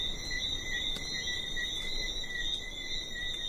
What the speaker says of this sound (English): There's just the sound of the breeze and these little frogs that come out at night and chorus all over